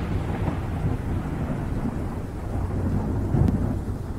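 Heavy rain pouring steadily with a low continuous rumble of thunder underneath, loud and close, a dense storm wash with a slight swell near the end and no voices.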